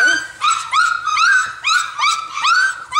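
Several puppies whimper and whine at a doggy door in high, rising cries, repeated in quick bursts close by, with short yips mixed in.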